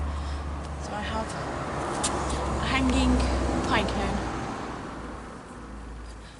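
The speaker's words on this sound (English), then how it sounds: "Sorry about the noise, there's quite a bit of traffic outside." Steady low road-traffic rumble from outside, passing vehicles swelling slightly around the middle, runs beneath close talking as a pine cone bird feeder is made indoors.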